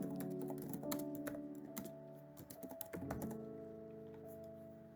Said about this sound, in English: Type an exclamation mark and press tab.